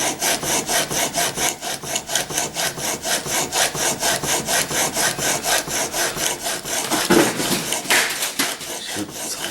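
A chisel is stroked back and forth across a whetstone in a steady, even rhythm of about three scrapes per second, close and fairly loud, with a slight change of motion near the end.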